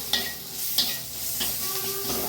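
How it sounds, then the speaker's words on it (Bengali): Chopped onion sizzles in a hot pan while a utensil stirs it, giving a steady frying hiss broken by a few sharp scraping knocks, close by with no talking. "দেখো পেঁয়াজটা একটু হালকা ভাজা হয়ে গেছে, একটু সেতলে নিলেই হবে"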